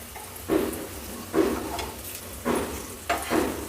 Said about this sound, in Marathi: बटाटे छान आपले फ्राय होत आहेत